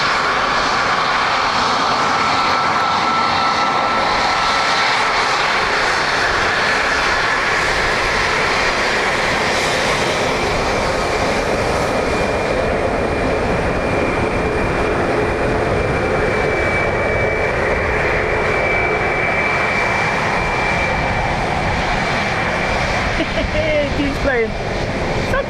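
A Ryanair jet's engines roar loudly and continuously at Dublin Airport, a dense, steady rumble and whine filling the whole stretch with only slight swells.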